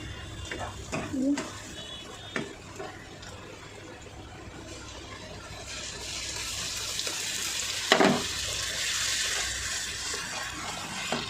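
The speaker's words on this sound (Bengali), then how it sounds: "দেখো পেঁয়াজটা ভাজা হয়ে গিয়েছে" Onions with ginger and garlic paste frying in oil in a pan, a steady sizzle that swells louder midway, with occasional clinks and scrapes of stirring and a voice talking faintly.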